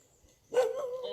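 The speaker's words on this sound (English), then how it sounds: "Un cane." A dog gives one short, moderately loud bark partway in, after a quiet moment, its tone trailing off briefly.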